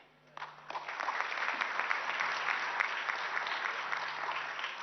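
Audience at an ASSOCHAM address by PM Modi bursting into applause, a dense, sustained clapping from a large indoor crowd that swells quickly and holds steady, with faint voices underneath.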